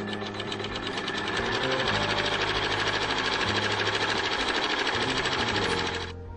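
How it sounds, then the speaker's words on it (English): Sewing machine stitching a tack-down stitch on fabric with wash-away thread, a loud steady rapid mechanical whir and needle chatter running without a break, then stopping abruptly at the end. "I've already got my wash away thread in the machine, and I'm just going to go ahead and stitch the tack down stitch"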